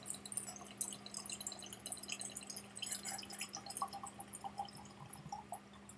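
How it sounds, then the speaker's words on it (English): Kymsee Bavarian single malt whisky being poured from a small sample bottle into a glass, a steady trickling stream with light splashes and drips, close and quiet, heard alone without talk. "I'm going to pour an entire brown, which is the whole bottle"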